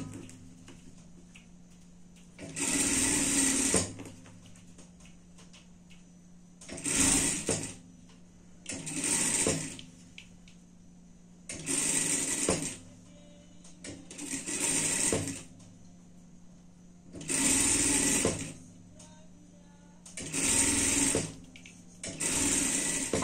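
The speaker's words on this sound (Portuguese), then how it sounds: "E vai vir prespontando essa costura aqui." A domestic sewing machine topstitches a seam on a Christmas bandana, running in about eight short bursts of two to three seconds each, separated by brief pauses with a quiet hum between them.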